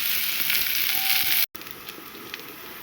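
Onion fries in hot ghee with a steady, close, loud sizzle that continues throughout, broken only by a brief dropout midway, with no voices.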